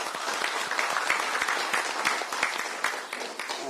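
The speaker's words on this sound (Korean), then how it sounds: "다시 한번 뜨거운 박수 부탁드립니다." A crowd at an outdoor political campaign rally in Gwangju breaks into dense, sustained applause, a continuous wash of clapping heard from a slight distance.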